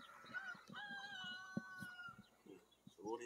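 Chickens cluck in short repeated notes, with a rooster crowing partway through; the sounds are faint and come from a close farmyard.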